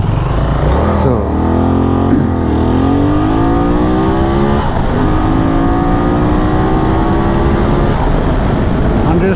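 A QJ SRT 800 motorcycle accelerates hard from a standstill to 100 km/h. Its loud, close engine note climbs repeatedly through the gears, with a steady roar of wind and road noise underneath.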